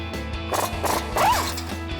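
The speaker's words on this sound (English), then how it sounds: "Now grab a 21mm swivel socket, remove your 2 caliper bracket bolts." A 21mm swivel socket on a ratchet works loose the caliper bracket bolts on a Jeep Wrangler JK, giving close, loud mechanical clicks and grinding metal scrapes in short bursts with no talking.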